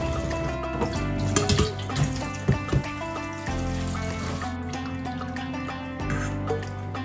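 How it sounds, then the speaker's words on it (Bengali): Tap water runs steadily into a sink while kachki dried fish are washed, a continuous splashing flow with occasional louder splashes and clatters, close and without talk. "ভালো করে ধুয়ে নেব।"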